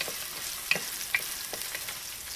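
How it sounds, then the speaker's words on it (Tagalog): Onion fries in an already hot pot, giving a dense, continuous sizzle with a few small pops and crackles throughout, close and fairly loud. "So we only need to put the onion, simmer lang siya natin konti."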